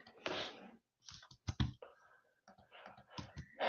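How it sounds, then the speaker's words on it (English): Quiet computer keyboard typing: irregular bursts of soft key clicks and taps, close and alone, with brief pauses between keystrokes. "I'm just typing in my name."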